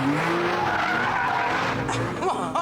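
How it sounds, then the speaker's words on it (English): A sports car being driven sideways on a test track, its engine roaring loud and close with a sustained tone while the tyres screech in a skid, the pitch shifting toward the end. "Awesome sound. Listen to that engine."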